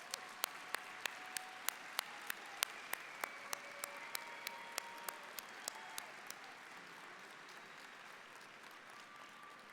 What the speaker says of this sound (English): join in yet another round of applause to congratulate the class of 2026